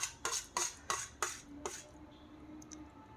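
A spoon clinks sharply against dishes about six times in quick succession, close and bright, before the room falls to quiet background hum.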